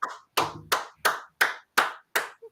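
Sean claps his hands in seven sharp, evenly spaced claps over a couple of seconds, loud and close, with no one talking.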